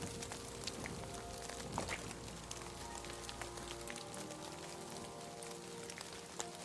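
Steady rain pours in the medieval world of the video game Kingdom Come: Deliverance II, a dense continuous hiss with scattered droplet ticks and a low rumble that drops away partway through.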